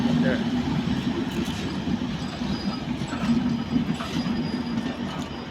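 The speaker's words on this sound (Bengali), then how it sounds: "একটা ট্রেন চলে আসলো মেবি এটা এখানে দাঁড়াবে" Dhaka–Panchagarh Express train arriving at Mirzapur railway station in Tangail on a single line, a close, steady rumble of wheels and carriages with faint clacking, while people talk over it.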